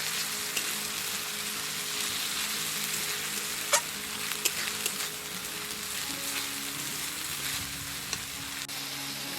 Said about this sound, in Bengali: এখন এর মধ্যে দিয়ে দেব বেটে রাখা পেঁয়াজটা। এটাকেও খুব ভালোভাবে নেড়ে নেব।